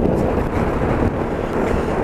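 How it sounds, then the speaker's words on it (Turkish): Strong gusty wind roars steadily against a motorcyclist riding at night through a storm by the sea, a dense continuous rush with no talking. "Sert rüzgar. Sağdan soldan duran rüzgar."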